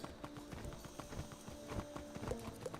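Horse hooves clip-clop in the Wizard101 video game, a quick, fairly quiet run of repeated hoofbeats with a brief whinny-like tone, and no talking.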